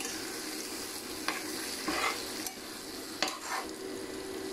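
A spoon stirs an egg biryani mixture in a pot, scraping in a few distinct strokes over a steady low sizzle, close and moderately loud, with no talking.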